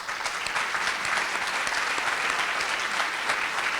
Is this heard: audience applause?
yes